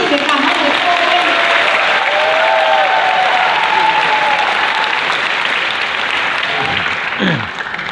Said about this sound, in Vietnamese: xin một tràng pháo tay các chị để cảm ơn cô lên